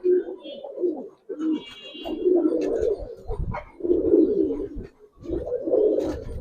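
A Giribaz pigeon coos repeatedly after a female is released near it, giving low, throaty rolling calls in close, regular bursts separated by short pauses, with faint chirps and brief background voices.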